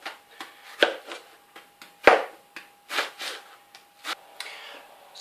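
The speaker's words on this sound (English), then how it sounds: "And just cut your onion up roughly." A knife roughly chopping an onion on a board, about a dozen irregular sharp chops with short gaps between them, close and fairly clear, with one especially hard strike.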